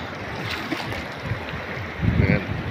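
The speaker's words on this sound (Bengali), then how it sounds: "পানির শব্দটা দেওয়া যাচ্ছে" Cold flowing water with small waves at a busy outing spot, a continuous close wash and splash that swells louder near the end, with faint voices in the background.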